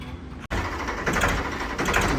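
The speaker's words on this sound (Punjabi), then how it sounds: "ਟਰੈਕਟਰ ਫੋਰਡ 93 ਮਾਡਲ ਵਾਹ ਸੁਣੋ ਬਾਈ ਟਰੈਕਟਰ ਦੀ ਕਿਆ ਘੈਂਟ" A 1993 Ford 3600 tractor engine running steadily up close, a loud continuous mechanical drone with a brief dropout near the start, then even knocking pulses, no talking.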